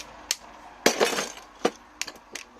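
A hammer knocks apart the core of a lamp ballast to pull out its copper winding. A few sharp metallic strikes come at uneven intervals, close and alone, and one louder hit rings on briefly.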